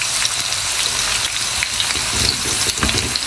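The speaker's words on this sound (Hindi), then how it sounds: "और ये जो सारा प्याज जो प्लेट में बचा है ये भी डाल देती हूँ।" Onions fry in a pan with a steady crackling sizzle, close up and alone, with soft scrapes of stirring as more onion goes in.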